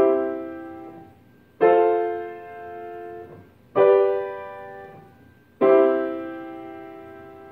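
A four-chord triad progression, tonic, predominant, dominant, tonic (I–IV–V–I), played as four sustained chords struck about two seconds apart, each ringing and fading before the next, with no voices.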